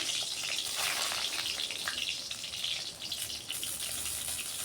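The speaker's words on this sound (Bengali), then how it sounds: "গরম হয়ে যাওয়ার পর বেগুনগুলো এক এক করে দিয়ে দিচ্ছি তেলের মধ্যে" Eggplant pieces fry in hot refined oil in a wok, giving a steady, dense sizzling hiss that stays fairly even throughout with no voices.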